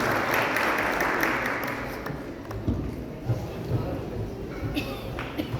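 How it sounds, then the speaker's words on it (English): Audience applause for a guest speaker at a Sunday evening Hare Krishna temple gathering, a dense burst of clapping that fades after about two seconds as quieter room sounds and voices take over. "please join me once again in giving a big round of applause to Jagannath Mistra Prabhu"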